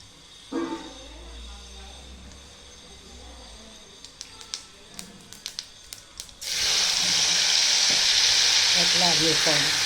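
Mustard seeds and cumin dropped into hot oil for an eggplant and potato curry, a few quick pops and crackles before a loud, steady sizzle swells up and continues, with a voice faintly underneath.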